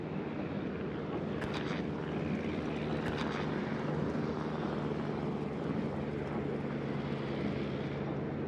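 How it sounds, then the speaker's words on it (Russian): A fighter plane engine in the naval combat game World of Warships drones steadily and loudly throughout, a continuous propeller-aircraft roar with a couple of brief brighter swells, heard alone with no talking. "Истребитель взлет произвел."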